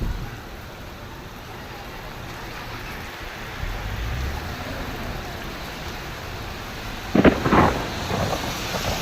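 Steady, dense heavy rain hisses continuously in Madina, with a low rumble and a brief louder splashing burst near the end; no talking.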